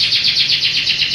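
Prize-winning competition canary singing, a loud, close, rapid trilling warble that pulses steadily with no voices over it.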